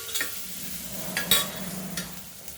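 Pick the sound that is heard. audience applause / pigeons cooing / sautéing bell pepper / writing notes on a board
sautéing bell pepper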